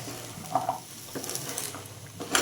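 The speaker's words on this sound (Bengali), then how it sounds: "মিনিট দুয়েক মতো নেড়ে চেড়ে ভেজে নেব পেঁয়াজগুলি" Onions sizzling in a pan with spring onion greens while being stirred, a soft continuous fry punctuated by a few brief utensil scrapes and a sharper clatter near the end, no talking.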